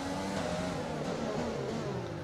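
A Formula 1 car engine revving in F1 2020, a dense high-pitched whine holding steady and loud throughout, near and uninterrupted.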